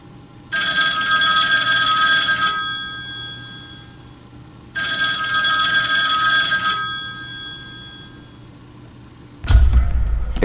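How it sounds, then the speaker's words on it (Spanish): Telephone ringing twice on The Ring DVD menu, two long electronic ring bursts separated by a silent gap, loud and close, followed by a short low thump. "luego escuchas un timbre de teléfono 2 veces"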